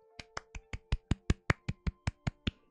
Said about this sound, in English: Let's go, clap, clap.